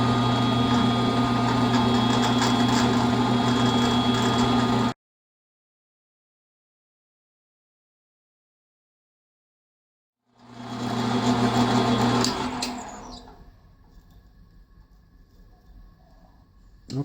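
A number 21 drill, 0.159 inches across, bores tap holes for a 10-32 thread in a metal zero clearance insert plate: a steady loud motor whir, a long silence, then a second run that winds down and fades.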